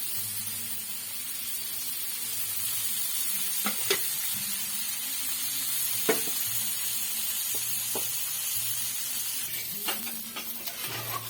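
Small fish fry in oil in a pan, giving a steady, soft sizzling hiss close by, broken by a few sharp pops and occasional utensil clicks.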